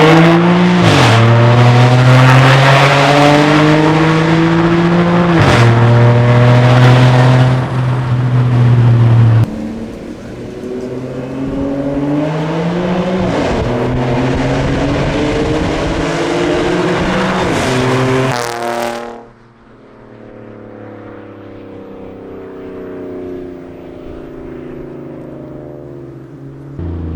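An Audi A5 3.2 V6 (8T3) engine revs loudly and close up through three hard pulls, each one climbing in pitch, easing off, then climbing again before the sound drops to a low idle.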